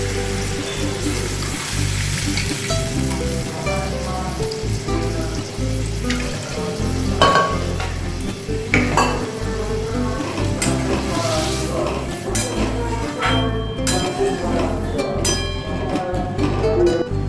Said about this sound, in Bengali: এবার এতে আমি দিয়ে দিচ্ছি ডালটা, সিদ্ধ ডালটা দিয়ে দিলাম